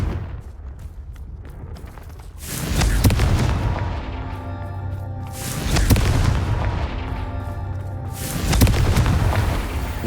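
Fire spell explosions from Hogwarts Legacy, a video game: three heavy booming blasts a few seconds apart, loud and rumbling over a steady bed of game music and ambience.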